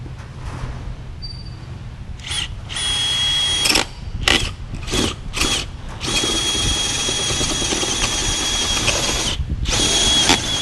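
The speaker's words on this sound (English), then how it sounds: "It's always scary to drill holes through your deck." A power drill bores a hole through the deck of a Chris Craft Commander boat, running in several short bursts and then one long steady run, loud and close with no talk.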